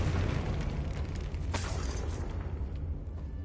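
Fiery blast from the Confringo spell in Hogwarts Legacy, a loud rumbling explosion with a sharp crack midway, its deep roar sustained and slowly fading, no talk over it.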